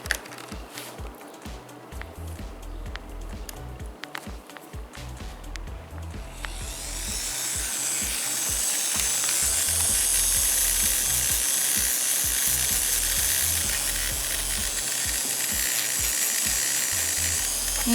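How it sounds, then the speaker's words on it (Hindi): An electric nail drill buffs the shine off a nail surface, starting as a low buzzing hum with rhythmic pulses, then rising midway into a steady, loud, high grinding whine as it bites the nail, heard close up. "अब ड्रिल से हम सरफेस की शाइन रिमूव करेंगे।"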